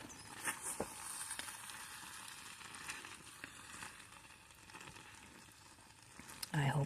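Mac and cheese with cheddar and Mexican cheese cooking in a small Dash mini rice cooker, a faint steady sizzle with light clicks and a soft clatter near the end.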